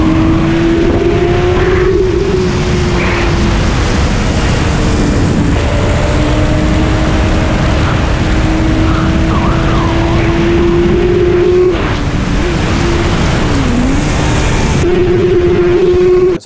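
A BMW motorcycle engine runs steadily, loud and close, with a constant droning tone that shifts slightly in pitch as it revs and settles, continuing without talk throughout.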